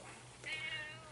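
A cat in a podcast studio gives one clear, drawn-out meow at close range, rising and then fading over about a second, with no talk during it.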